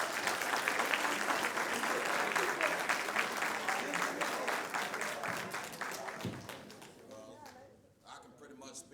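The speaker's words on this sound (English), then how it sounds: "Give him a round of applause." A crowd gives a round of applause to a state trooper being introduced at a daily awards gathering, a full sustained clatter of clapping that gradually tapers off and fades toward the end.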